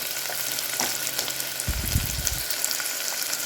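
Chopped onion and garlic frying in a pan for biryani, giving a steady close sizzle that swells into a louder burst of crackling midway, then settles back to a soft hiss.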